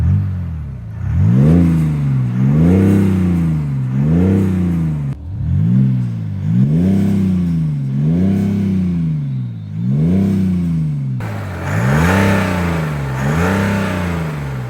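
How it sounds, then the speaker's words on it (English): A BMW X6 40d diesel SUV in Sport mode with its factory sound booster, revving repeatedly in loud, close, rising-and-falling engine sweeps, about eight pulls in a steady rhythm. "It has like a sound booster, but stock from BMW, a diesel sound,"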